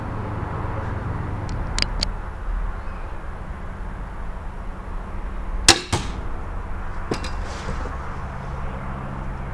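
A crossbow bolt is shot at a target while the scope is zeroed, with a sharp snap of release and a thwack near the middle, plus a couple of fainter clicks earlier, over low outdoor background noise.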